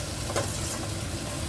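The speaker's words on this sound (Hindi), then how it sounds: "अब इसमें डालते हैं सोया चंक्स।" Soya chunks drop into a frying onion-tomato masala and sizzle steadily, with a brief stirring scrape; close and continuous, no talking.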